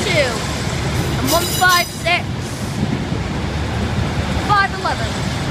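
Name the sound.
train passing through Glasgow Central station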